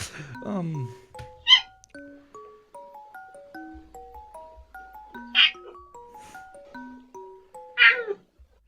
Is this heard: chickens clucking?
no